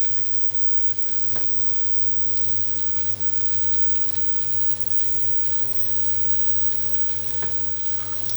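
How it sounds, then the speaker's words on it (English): Spring onion frying in a pan, a continuous close sizzle with occasional stirring scrapes that holds steady from start to finish, with no talk over it. "I can use the same pan just to fry the spring onion a little bit before I throw it in"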